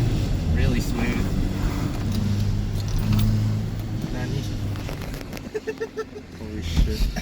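A Toyota MR-S with a 2ZZ-GE engine and a light flywheel drives slowly, its low engine hum steady beneath someone talking close by, followed by a few brief mechanical knocks.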